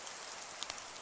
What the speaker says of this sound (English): Let's go run out in some hail.